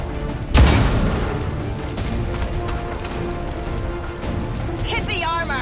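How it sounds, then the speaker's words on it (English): A pistol shot in the XCOM 2 strategy video game, one sharp loud crack with a booming tail that fades into steady rain-like ambience, with a voice speaking later on. "And shoot him with your pistol"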